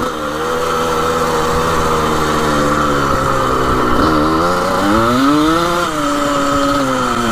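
A rare 1980 vintage racing dirt bike engine runs loud and close, holding a raspy, rattly idle that rises and falls as the throttle is blipped.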